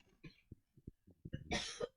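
A short burst of coughing near the end, preceded by scattered soft throaty sounds and small noises.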